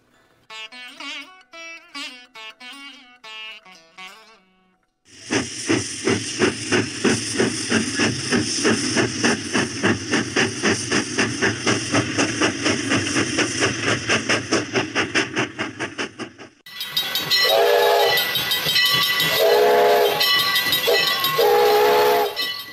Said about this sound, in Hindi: रेलगाड़ी आने ही वाली है